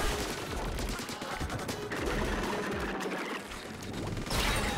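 Rapid ink weapon fire in the Splatoon 2 video game, a dense continuous spray of shots lasting several seconds with brief dips, under game effects and faint talk.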